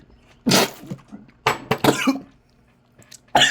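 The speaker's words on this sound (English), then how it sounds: "Had a cough in the middle of water" Several harsh coughs burst out in separate fits, close and loud, with quiet pauses between them.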